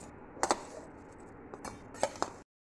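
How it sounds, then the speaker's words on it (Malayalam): Roasted dried shrimp and chillies drop into a mixer grinder jar, giving two clusters of light clinks and rattles, each a few quick taps close by, with quiet between. "നമുക്കിത് മിക്സിയിലെ ജാറിലേക്ക് ഇട്ട് കൊടുക്കാം."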